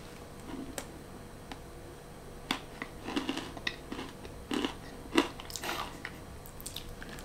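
Someone bites and chews a hard, sandy chocolate space food bar, quiet scattered crunches and clicks that grow more frequent partway through, close up with no talking.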